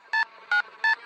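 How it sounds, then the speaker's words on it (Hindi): Three short, evenly spaced two-tone keypad beeps from a telephone number being dialed, crisp and close with brief gaps between them and nothing else heard. "फिर अर्जुन ने पीयूष को फोन लगाया।"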